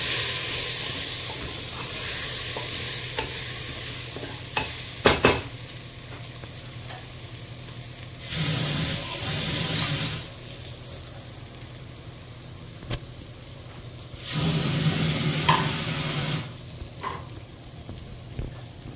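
Chole masala for white matar and aloo chole sautéed and stirred in a pan, a low steady sizzle with sharp spoon clatters and two longer bursts of louder hissing as the mixture is turned, no voices.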